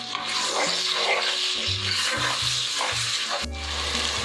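Spiced masala with garam masala powder sizzles and fries in a pan for egg biryani while a spoon stirs it steadily, close and loud with no talking.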